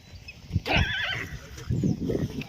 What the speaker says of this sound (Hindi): और भी बहुत सारे घोड़े हैं यहाँ पर